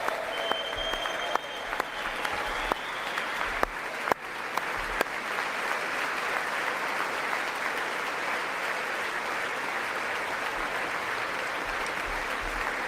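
Steady applause from a large audience at a presidential address to Congress, beginning with a few distinct claps before swelling into dense, sustained clapping that continues throughout, with faint voices mixed in.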